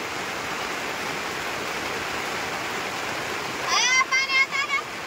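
Rainwater runs through a channel cut along a ridge behind a dwelling, making a soft, steady trickle and wash. A person speaks briefly over it near the end.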